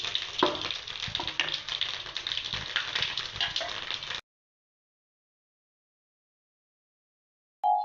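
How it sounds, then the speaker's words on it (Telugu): Spices and peanuts crackle and sizzle in hot oil for tempering lemon rice, a steady, busy frying hiss lasting about four seconds before cutting to silence. "ఆయిల్ వేసుకొని పోపు దినుసులు, పల్లీలు అన్నీ వేసుకొని వేయించుకొని"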